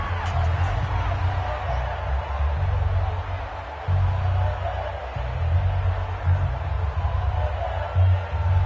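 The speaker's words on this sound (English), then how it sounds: "The crowd getting into it as we come up on a big 3rd down." Steady, loud crowd roar fills a Madden 20 video game football stadium late in the fourth quarter ahead of a big third down, swelling in waves with low rumbling underneath and no clear voices.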